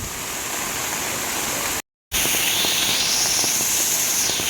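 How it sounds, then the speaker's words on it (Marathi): Nhavankund waterfall in Talavade village, Devgad, in the Konkan during the monsoon, a loud, steady rushing roar of falling and flowing water, close and continuous with a brief cut in the middle. "छोटे छोटे वॉटरफॉल्स पण भरपूर आहेत"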